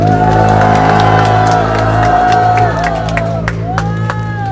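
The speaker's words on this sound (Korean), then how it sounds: "함께 박수하십시다" Crowd applause and cheers at a political party press conference in Daegu, a steady wash of clapping with whoops rising over sustained background tones and voices.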